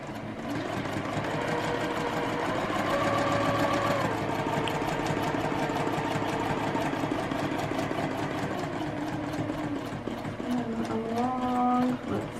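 A sewing machine runs steadily while stitching quilt borders on a beginner Courthouse Steps quilt top, a continuous close motor whir with slight shifts in pitch and a brief back-stitch near the end, no talking.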